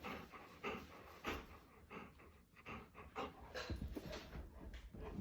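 A dog moves about and pants during a training session at home, with soft breathing, shuffling and faint whimpers close to the microphone and no talk.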